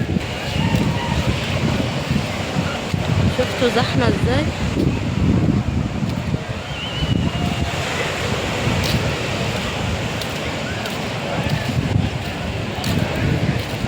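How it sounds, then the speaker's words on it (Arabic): Crashing sea waves and surf roll continuously onto a crowded beach under heavy wind rumble, while voices talk nearby. "اول يوم لينا على البحر وهننزل النهاردة"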